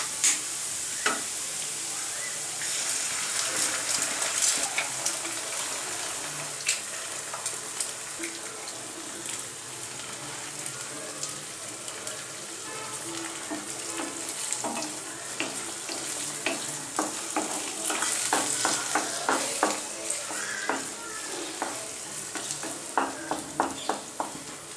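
Onions sauté and sizzle steadily in a frying pan for egg podimas, with a spatula repeatedly scraping and stirring against the pan in an irregular rhythm, close and continuous with no talking.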